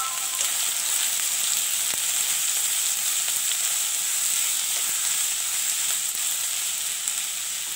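Curry leaves and onion frying steadily in hot oil for a Kerala egg curry with coconut milk, a close, continuous sizzle and hiss with faint stirring, no voices.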